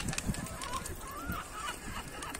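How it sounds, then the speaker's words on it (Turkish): A seagull perched on top of a chimney gives a couple of short, wavering calls from a moderate distance, over a rough outdoor background murmur. "Bacanın üstünde martı var."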